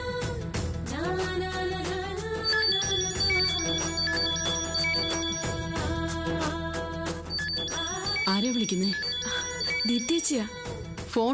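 A phone's musical ringtone keeps playing on and on, loud and continuous, in a Malayalam TV serial scene, with faint voices underneath.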